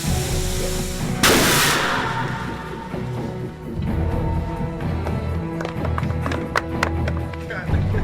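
A staged Jericho missile explosion on an Iron Man film set at Lone Pine bursts loud and sudden after a brief rumble, then gives way to a lingering low roar with scattered clatters and faint movement.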